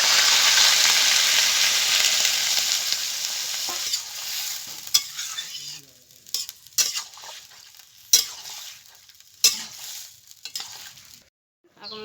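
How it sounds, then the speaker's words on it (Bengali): Raw jackfruit and potato curry sizzles loudly in a hot pan, then quiets to a softer simmer broken by scattered clinks of a stirring utensil against the pot. "এখন জল দিয়ে দেবো।"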